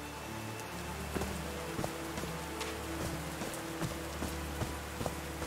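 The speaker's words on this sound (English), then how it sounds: "These drops of rain are so refreshing." Steady, even rain falls in the video game Call of the Sea, a soft wash of drops with faint tapping accents and a low ambient hum underneath, no voices.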